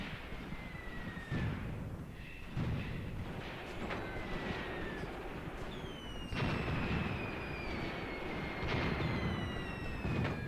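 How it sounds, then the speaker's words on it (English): Artillery spotting rounds in the WWII war game Graviteam Tactics, set around Kharkov in 1941: several whistling incoming shells followed by dull booming impacts, spaced a few seconds apart over a rumbling battlefield backdrop. "here come the spotting rounds"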